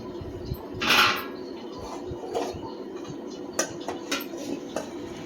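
A spoon scrapes and clinks against a pan while a sautéed mixture is moved onto a plate, with a louder scrape near the start and lighter metallic taps after it. No one speaks.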